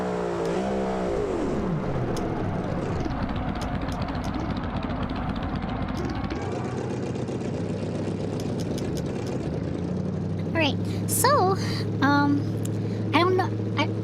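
A racing car engine in a video game revs hard and climbs through gears with rising, whining pitch toward a high top speed, loud and continuous under a talking voice.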